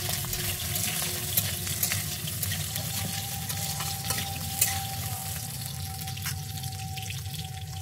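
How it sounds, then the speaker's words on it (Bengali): Potatoes fry in a pan for a thin fish curry, giving a steady close sizzle with soft stirring scrapes and occasional small pops throughout, with no voices. "আমি আলুটাকে ভালো করে ভেজে নেব।"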